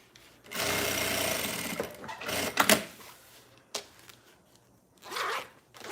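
A sewing machine stitches a seam on a fabric flower project in two close bursts, a long steady run and a shorter one later, separated by clicks and fabric handling.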